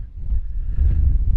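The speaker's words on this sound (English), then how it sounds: "it's very windy here" Gusty wind buffets a microphone outdoors near a parked van, a low rumbling roar rising and falling over a short stretch.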